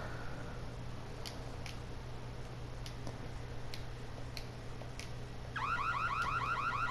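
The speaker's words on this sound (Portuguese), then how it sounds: "Tá tocando alarme no jogo, velho." Alarm in The Long Reach video game: a rapid warbling electronic tone starts abruptly near the end over a steady hum, after scattered soft ticks.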